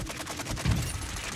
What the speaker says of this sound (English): You're shooting friendlies!